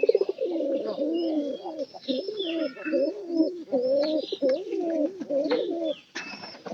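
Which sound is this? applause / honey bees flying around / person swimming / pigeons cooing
pigeons cooing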